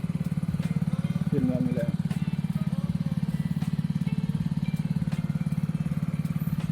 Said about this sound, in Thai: เครื่องดูดน้ำธรรมดานี่แหละดูดน้ำขึ้นมาจากสระ